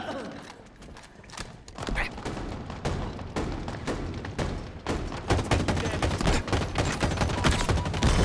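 Rapid, dense gunfire from a Halo Infinite match clatters almost continuously, building louder toward the end, with a voice speaking under the shooting.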